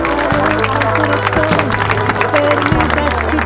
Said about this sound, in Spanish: Fuerte el aplauso para todos nosotros.